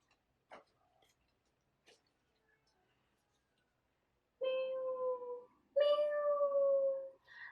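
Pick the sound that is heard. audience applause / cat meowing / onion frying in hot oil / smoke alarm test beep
cat meowing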